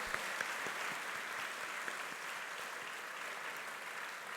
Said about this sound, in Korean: 우리 다시 한번 나갈 때까지 박수해 주시기를 바랍니다